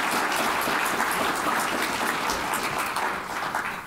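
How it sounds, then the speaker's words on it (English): At a community panel event, an audience gives the panelists a steady round of applause, a dense wash of many hands clapping at an even level throughout, slightly distant and with no speech on top. "Let's give them a round of applause."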